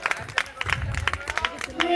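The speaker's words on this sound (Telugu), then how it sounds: "క్లాప్స్ కొట్టండి" Audience clapping at a 2024 Christmas programme, a quick burst of brisk, uneven claps from a nearby group, with voices murmuring underneath.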